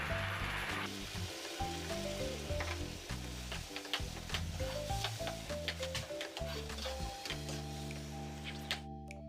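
A thick spinach puree sizzles and spits in a hot pan, with occasional scraping of a spoon stirring it, steady and close.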